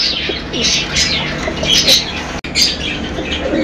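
Pigeons at a fancy pigeon sale, a mated pair among many birds, cooing and chirping steadily with occasional squawks and wing flaps nearby, no talk.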